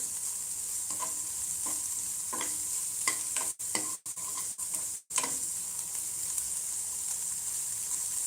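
Capsicum and onion sizzling in a hot pan, a steady close hiss with a series of scraping stir strokes and a few sharp clacks of a spoon against the pan partway through.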